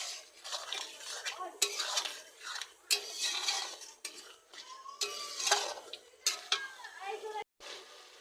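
A spoon stirs chicken curry with tomato and chili sauce in a pot, giving irregular scraping and clinking strokes against the metal over a soft background sizzle, close by and with no talking.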